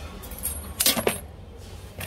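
A set of cash register keys jangles close by, a brief bright metallic rattle with a couple of clinks, then quieter handling, without any speech.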